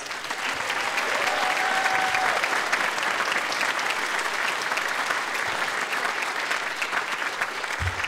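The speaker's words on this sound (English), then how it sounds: "let's give one more big round of applause before our last piece for all of our um, orchestra students tonight" Audience at a school orchestra concert applauding steadily for the orchestra students, a dense, even round of clapping that lasts the whole stretch, with a brief tone heard early on.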